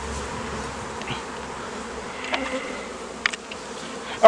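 Honey bees buzz in an opened bottom hive box of an overwintered colony, a steady close hum with a few brief louder passes and small knocks near the end.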